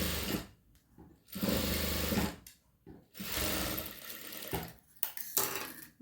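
A sewing machine stitches a hook strip in short bursts of fast, rattling needle chatter, close and clear, with brief pauses between runs.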